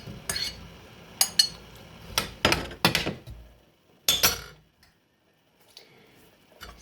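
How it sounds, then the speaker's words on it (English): Apples dropped into boiling sugar water in a pot, heard as a series of sharp clinks and knocks against the pot, clustered in bursts and then fading to near silence with faint later taps. "it's boiling now, so I am going to add this one, the apples"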